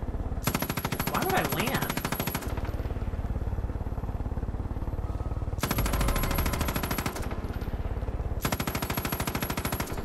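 Machine gun fire in Far Cry 5 rattles in loud, rapid bursts, roughly two seconds each with gaps between, while someone talks over the shooting.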